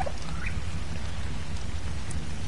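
Steady rain falling in the video game Ark, a dense continuous hiss and patter with a low rumbling undertone, even and unbroken throughout with no talking.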